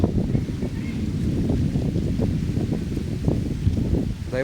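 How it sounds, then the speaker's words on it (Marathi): Cold wind gusting in a Ratnagiri village just before the season's first monsoon rain, a steady low rumbling buffet against the microphone that continues without pause. "हवा सुटली गार गार"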